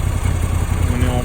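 Moto Guzzi V85 TT motorcycle engine idling up close, a steady low rumbling throb filling the short stretch with no pauses.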